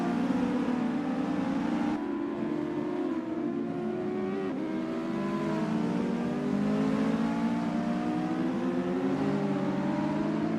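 US Legend car in a racing sim at Ahvenisto, its engine droning steadily with rising and falling pitch as it accelerates and shifts through corners, continuous and moderately loud with no talk.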